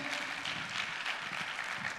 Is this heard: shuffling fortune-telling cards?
no